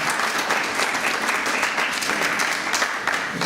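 Audience applause at an evening gala of a Brussels nonprofit, in honour of a priest: dense, steady clapping from a sizeable crowd, close and sustained throughout with no pause.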